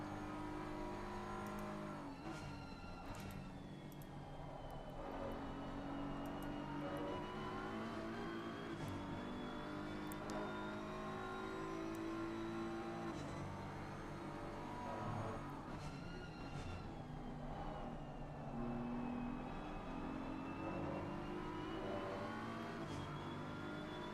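GT3 race car engine in an endurance racing game at Donington Park, a continuous loud engine drone rising and falling in pitch through gear changes and revs, steady throughout with no talk.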